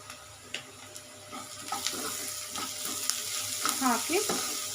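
Onions frying in a pan with salt and chili powder give a steady low sizzle, with soft scraping and stirring clatter growing slightly louder toward the end.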